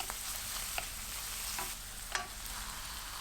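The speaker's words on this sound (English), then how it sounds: "simply I'm gonna saute again 1 medium-sized diced onion" Diced onion sautéing in a pan for a minced meat filling gives a steady, soft sizzle, with a few light stirring scrapes and clicks at intervals.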